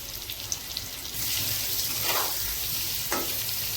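Potatoes with salt and turmeric fry in a pan: a quiet start gives way to a louder, continuous sizzle, with a couple of brief stirring clatters and no talking.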